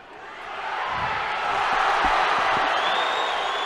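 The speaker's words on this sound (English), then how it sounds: "on mat number 2 you could just hear the home crowd" Home crowd at the European Judo Championships in Sofia, a sustained roar of cheering and whooping across a large arena that swells and holds loud throughout, with faint thumps beneath.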